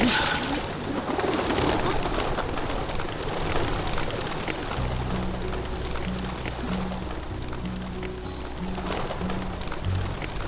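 Pigeons coo in a series of low, repeated calls over a dense, noisy background, the cooing growing more distinct toward the end.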